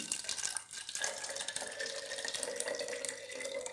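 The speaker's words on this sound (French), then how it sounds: "Ajoute ensuite 100 g d'eau déminéralisée." Demineralized water pours steadily into a container, a continuous splashing trickle like a running tap that holds for nearly four seconds without any talking.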